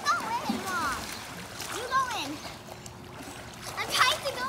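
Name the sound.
children splashing while swimming in a pool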